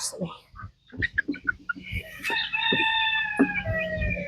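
Chickens on a family farm, with quick nearby clucks and a long rooster crow, mixed with talk.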